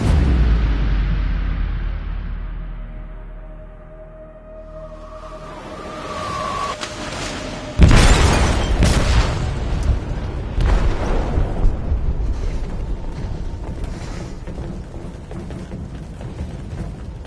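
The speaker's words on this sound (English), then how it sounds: "They detonated an explosive in the hold." A loud explosive detonation booms in a ship's hold in the game Detroit, a sudden broadband blast after a quieter stretch, followed by a long rumbling roar and crackling debris that sustains to the end.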